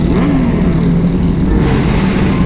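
A loud, throaty Harley-Davidson motorcycle engine roars steadily in a tunnel with a deep rumble and a rising rev, echoing in the enclosed space.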